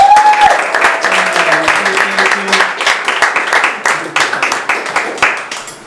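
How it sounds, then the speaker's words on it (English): Audience applause and cheering for the host at a stand-up comedy show, loud, close clapping from a small crowd that carries on throughout, with voices and a few whoops mixed in. "She just walked out, but she'll hear the applause."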